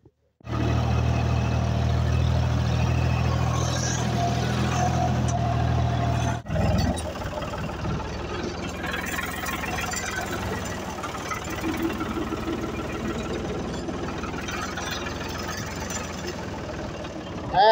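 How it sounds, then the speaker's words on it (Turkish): A farm tractor engine runs steadily and loudly at idle with a deep knocking throb, then cuts off sharply a few seconds in, leaving rustling outdoor work noise during an orchard apple harvest. "Bu da ayrı bir traktör."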